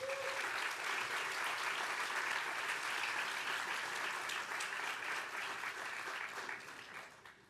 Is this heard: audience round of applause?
yes